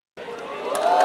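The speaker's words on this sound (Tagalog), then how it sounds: "pumapalakpak yung mga INC" INC members clapping as a crowd: a dense wash of applause and cheering that swells in over about a second, loud and close, with voices mixed in.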